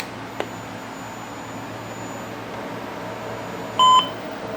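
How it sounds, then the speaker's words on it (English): A Sperry 3070-08 PC/XT clone computer gives one short, clear electronic startup beep near the end, standing alone over a steady low fan and drive hum. "Single beep this time."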